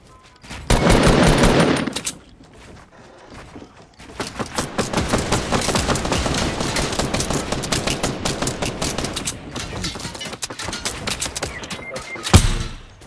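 Video game gunfire, a sustained burst of rapid automatic shots followed after a pause by a long stretch of dense, loud firing, then a final sharp close blast.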